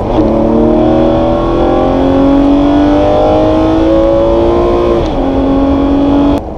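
A loud Ferrari 599 GTB engine revs and accelerates close by, leaving a garage, pitch climbing steadily through the gears, with one brief shift before rising again.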